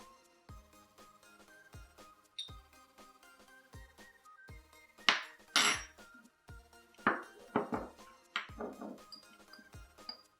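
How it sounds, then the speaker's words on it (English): A metal spoon clinks against a bowl and jar while scooping and tapping out tablespoons of sugar, sharp ringing knocks in a regular beat followed by grainy scraping scoops, close and clear with no talking. "So that's going to be adding your 3 tablespoons of sugar."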